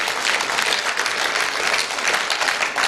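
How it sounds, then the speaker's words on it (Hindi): Dense, steady applause from a large crowd in a hall, many hands clapping together without pause at a strong, even level. "एक बार जबरदस्त तालियां चाहूंगा इन लोगों के लिए"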